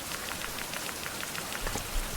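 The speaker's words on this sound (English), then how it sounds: "I don't want to leave my base while it's raining." Steady rain falls throughout in the 16th-century survival game Survival: Fountain of Youth, a dense, even patter of drops close at hand with no voices over it.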